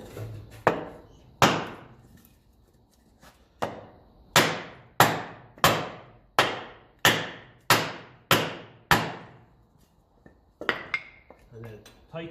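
A hammer strikes a metal part on a 1954 Ferguson 20 TEF diesel tractor about a dozen times in a steady rhythm, each blow a sharp, ringing clank. A few lighter knocks follow at the end.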